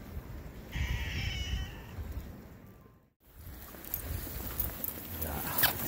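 A cat meows outdoors at a rocky seaside spot during shore fishing for winter opaleye, a couple of clear mid-pitched calls over wind and surf noise.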